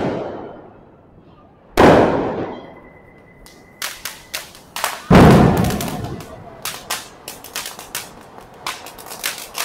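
Diwali firecrackers and fountain fireworks go off on Laxmipujan night: loud, sharp bangs ring out close by, followed by a rapid, irregular string of snapping cracks and pops.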